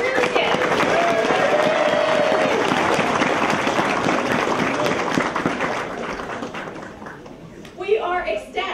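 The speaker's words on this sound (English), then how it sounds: "let's give a round of applause to Mount Hebron High School students Kate Cruz and Rebecca Freerskin" A crowd at a library branch and historical center grand opening applauds two high school student musicians. The clapping is loud and sustained for about six seconds, then thins out, and a voice begins speaking at the end.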